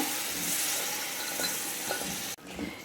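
Cooked mutton with its cooking water sizzles in a frying pan for a pepper mutton roast, a steady hiss with soft stirring scrapes that cuts away abruptly near the end.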